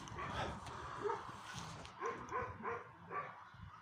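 An injured dog whimpers and yips in short, plaintive bursts, close by, with people murmuring around it.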